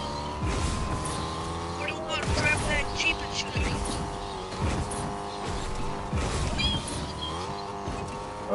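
Vehicle engine and tire noise from a Jeep driven in a PS4 battle-royale video game, a steady game-audio drone with skidding bursts under ongoing player chatter.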